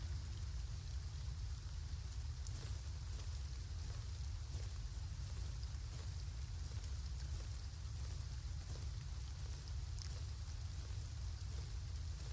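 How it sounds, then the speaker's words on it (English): Steady in-game rainfall in the farming game Farm Together 2, a constant hiss of drops with a low rumbling bed and occasional soft patters, continuous throughout without voices. "Now it looks like it's gonna rain."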